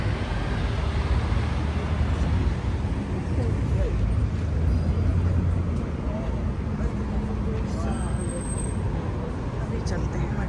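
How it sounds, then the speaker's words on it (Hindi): Steady traffic on a main road in Canada: a continuous, fairly loud low roar of passing vehicles that stays even throughout, with no clear single pass-by standing out. "ये है मेन रोड।"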